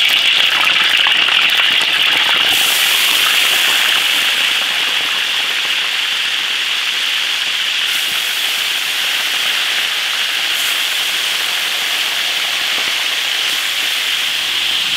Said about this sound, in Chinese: 鸡腿下锅煎。